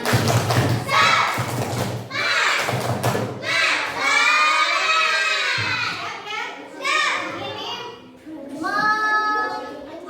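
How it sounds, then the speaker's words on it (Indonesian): Students perform the tepuk semangat clapping chant in a classroom: rhythmic thumping claps alternate with loud, chanted children's voices, several beats then shouted syllables, close and energetic. "Biar makin semangat, coba tepuk semangat dulu. Tepuk semangat."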